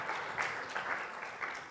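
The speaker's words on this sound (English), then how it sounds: "please give her another round of applause" A conference audience applauds a panelist at a tech and business event, steady dense clapping with a few louder swells, moderately distant and continuous throughout.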